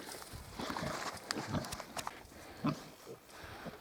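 Mangalica piglets on a small farm grunt in short, scattered bursts, faint and intermittent, with light rustling and shuffling between the grunts.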